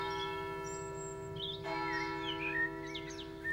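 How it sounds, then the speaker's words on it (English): Church bells in a Devon village peal a melodic tune, their sustained ringing tones layered and continuous, with birds chirping faintly over the top and no voices. "The centrepiece is the church, whose bells peal a melodic tune every hour."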